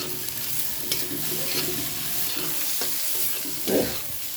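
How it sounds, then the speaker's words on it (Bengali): Sliced onions fry in hot oil with a little salt, sizzling steadily up close while a utensil stirs and scrapes through them in occasional knocks, with no talking. "এখন পেঁয়াজগুলো ভালো করে ভেজে নেব।"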